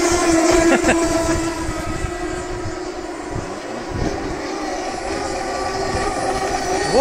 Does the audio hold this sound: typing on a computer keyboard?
no